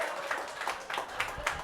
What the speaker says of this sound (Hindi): किशोर के लिए तालियां हो जाए